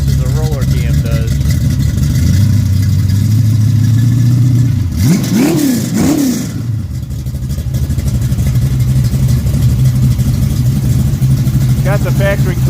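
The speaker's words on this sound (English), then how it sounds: "Camshaft's got a really nice idle, and for a hydraulic flat tappet, it works really well." A 1967 Pontiac GTO 400 with a hydraulic flat-tappet camshaft gives a loud, lumpy idle and then a couple of sharp throttle blips that rise and fall before it settles back to idle, with a person's voice heard over it.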